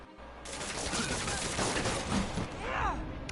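Gunfire from the Spider-Man video game crackles in rapid bursts for about three seconds, blended with dense game noise and effects at a steady, fairly loud level.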